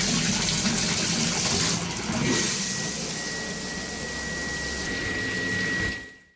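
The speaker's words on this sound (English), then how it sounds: "I want to grab a hot shower, just warm up" A hot shower runs with a dense, steady hiss of falling water and a faint high whine that carries through, then cuts off abruptly near the end, leaving near silence.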